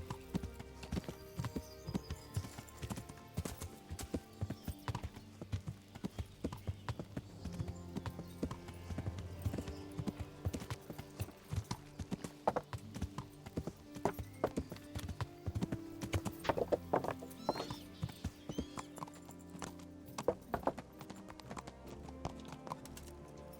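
In Kingdom Come Deliverance, a ridden horse's hooves clop steadily and close for a long stretch, an unbroken rhythmic gait with a soft game soundscape underneath and a faint whinny.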